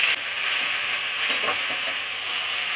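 Chopped water spinach (kolmi shak) dropped into hot oil with chillies and garlic, sizzling loudly and steadily with a bright, spitting hiss, alone with no talk.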